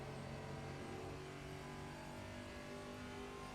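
TA2 series race car at Road America, its engine droning loudly and steadily as the driver balances the throttle through the kettle bottom corner, a dense continuous roar with no voices.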